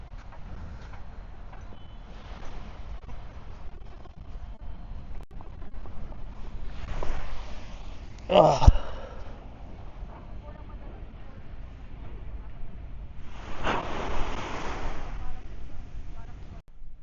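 Wind gusts buffet the microphone at a Dubai beach resort, swelling into rough, loud bursts over a steady low rumble, with a sharp knock partway through.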